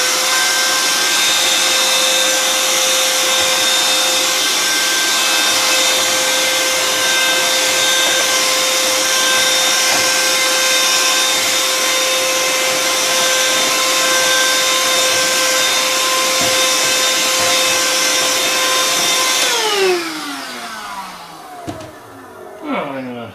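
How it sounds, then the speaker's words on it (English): A vacuum cleaner on an N scale model railway layout drones steadily at close range with a high whine, then powers down near the end, its pitch sliding away to quiet clatter. "vacuum cleaner."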